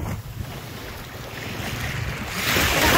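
Sea waves roll in at a beach in Roxas, Capiz, a steady wash of surf with wind rumbling against the microphone, swelling louder as a wave breaks near the end.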